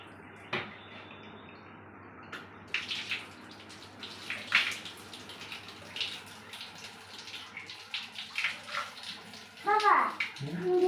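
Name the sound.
water running while washing face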